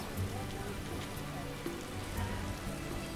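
Steady heavy rain patters in a downpour in The Witcher video game, a dense even wash of drops hitting surfaces, with faint scattered game sounds underneath.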